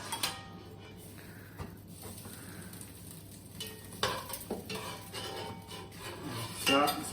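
Cutlery clinks and scrapes against a dish while a roasted pot-cooked chicken is carved, with sharp knife contacts near the start, around the fourth second and near the end over a low steady kitchen hum.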